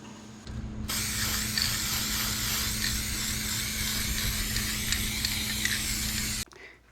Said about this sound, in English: We'll just give that a little coat of black spray paint.